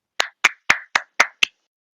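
Six sharp, loud hand claps close by, evenly spaced about a quarter second apart, then silence.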